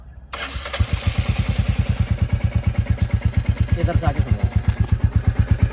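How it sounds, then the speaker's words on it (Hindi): A Royal Enfield Bullet 350 in military silver black starts and settles into a loud idle, its exhaust thumping in a steady, even, deep rhythm close by, while someone speaks briefly at the start. "तो आपको मैं सुनवाता हूँ इसका एग्जॉस्ट, नई वाली का किस तरीके का एग्जॉस्ट आता है।"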